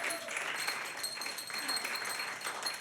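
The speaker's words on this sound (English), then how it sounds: "I live for golf claps." Light golf-clap applause from a small audience at a live show: a steady patter of soft hand claps held at an even, fairly quiet level throughout.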